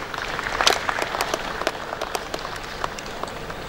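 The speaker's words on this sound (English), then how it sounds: "Please, a round of applause." Applause from an audience at the 2022 Annual Assembly of Registered Quantity Surveyors, a steady patter of many hands clapping at once with no voices over it.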